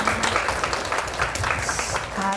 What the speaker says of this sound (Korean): 우리 하나님께 감사와 찬양의 박수,